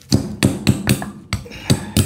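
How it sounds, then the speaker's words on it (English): A carpenter hammer striking a painted rock shaft valve part from a John Deere 3038e three-point hitch, eight close, sharp metallic blows in a steady rhythm with one short pause, no talk. "carpenter hammer."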